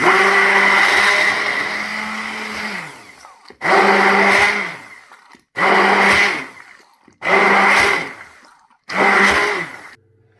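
A blender whirs through mango pulp and yogurt for lassi in one long run followed by four short bursts, each starting abruptly and cutting off, with silent gaps between pulses.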